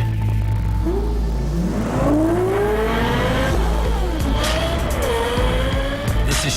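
A Lexus supercar engine, acoustically tuned with Yamaha, revs hard and loud, its pitch climbing and dipping in repeated sweeps as the car accelerates and shifts. Sharp high tire-like squeals cut through near the end, and no one speaks.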